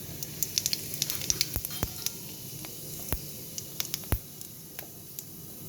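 White cumin seeds crackling in hot white oil in a kadai: scattered sharp pops and spits over a low hiss, some louder snaps standing out, no talk.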